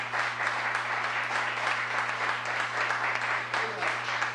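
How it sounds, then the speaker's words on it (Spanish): A church congregation applauding during a Spanish-language service, a steady broadband patter of many hands at moderate level with a constant low hum beneath and possible faint voices mixed in. "denle un aplauso al Señor"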